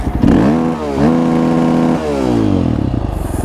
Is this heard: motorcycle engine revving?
yes